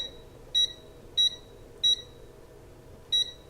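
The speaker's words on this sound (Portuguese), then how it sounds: "Percebeu como o bip é chato?" An Aneng M118A multimeter gives four short, sharp electronic beeps at irregular intervals during testing, close and clear over a quiet background hum.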